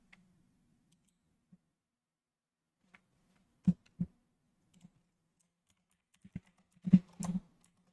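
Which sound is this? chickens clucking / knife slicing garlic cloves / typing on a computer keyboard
typing on a computer keyboard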